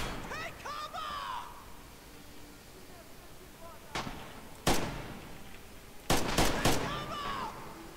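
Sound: grenade explosions and gunfire in video game Red Orchestra 2

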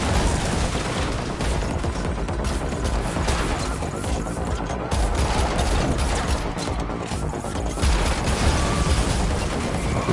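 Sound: gunfire from video game, Unreal Engine 5 Matrix demo

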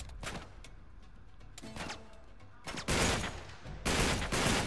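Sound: gunfire from a gun in the video game Uncharted 3

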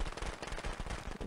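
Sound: firecrackers going off in video game Friday the 13th

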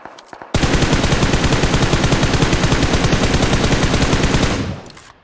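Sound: gunfire in video game PUBG Mobile

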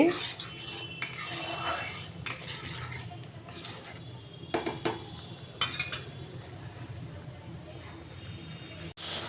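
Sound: stirring and frying spice paste in a pan

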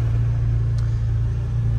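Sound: Can-Am Defender Limited engine revving at low speed

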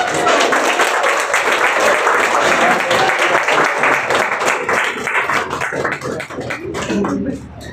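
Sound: audience applause welcoming Tulsi

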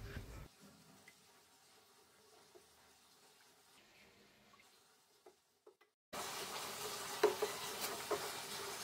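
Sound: stirring pumpkin pudding batter in a wok

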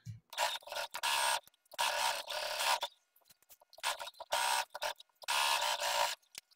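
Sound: sewing machine stitching pocket lining to trousers

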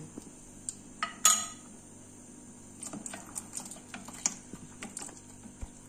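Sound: stirring custard mix into boiling milk in a pan

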